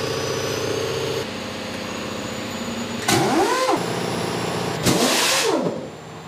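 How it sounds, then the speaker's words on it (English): Twin 500-horsepower diesel engines on a small Chicago tugboat crank and fire up, two loud startup bursts with rising-falling revs over a steady idling rumble of machinery. "Two 500-horsepower engines give this small boat the power to move thousands of tons."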